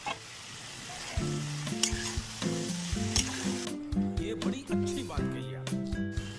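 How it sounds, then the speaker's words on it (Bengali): Tangra fish and potatoes sizzling and being stirred in a spiced masala in a pan, a steady fry under a voice, with occasional utensil scrapes. "এইবারে এই কষানোর মধ্যে আমি আলু আর মাছটাকে দিয়ে আরো 2 মিনিট থেকে 3 মিনিট কষিয়ে নেবো"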